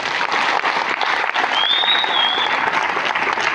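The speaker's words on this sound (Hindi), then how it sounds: "एक बार जोरदार ताली बजा दीजिए।" Loud, sustained applause from a crowd at a company leadership and achievement event, steady dense clapping throughout with a brief high whistle partway through.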